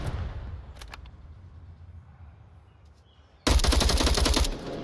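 Gunfire in the VR shooter game Onward during a competitive match, a few faint shots early, then a loud close burst of rapid automatic fire near the end.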